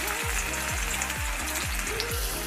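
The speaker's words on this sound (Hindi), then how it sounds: "हमारी ऑयल गरम हो चुकी है अब इसमें हम डालेंगे 4 मीडियम साइज की कटी हुई प्याज" Four medium chopped onions frying in hot oil for a chicken samosa filling: a steady, close sizzle with repeated low scraping strokes from stirring, and no voices.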